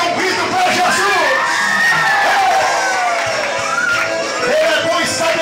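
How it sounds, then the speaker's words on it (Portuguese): A youth congress crowd at a church event in Bitupita, Ceará, shouting and cheering together in a loud, sustained roar, dense and continuous throughout. "Só quem está feliz dá um grito para Jesus."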